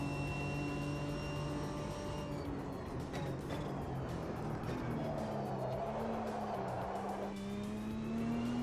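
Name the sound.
race car engine and tires in the racing game AMS2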